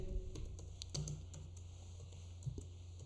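Someone types a short word on a computer keyboard while working in an Excel spreadsheet. The quiet, close keystrokes come in a few irregular taps.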